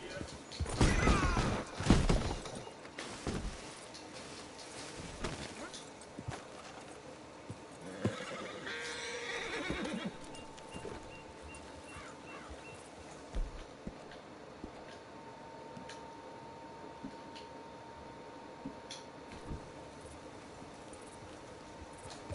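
A horse in Red Dead Redemption 2 gives a loud, close whinny followed by a snort, then steady clip-clop of hooves at a trot continues faintly beneath quiet ambient wind.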